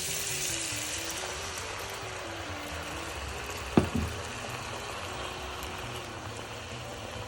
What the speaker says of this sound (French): J'y ajoute le lait chaud.